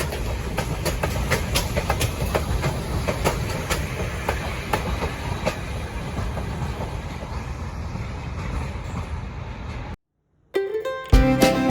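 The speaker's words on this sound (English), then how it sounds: "I think it's a really cool train to ride" Passenger train on the mountain route to New Hampshire's highest point, a loud continuous rumble with rhythmic clickety-clack of wheels on rails, then a sudden brief silence before a different louder sound.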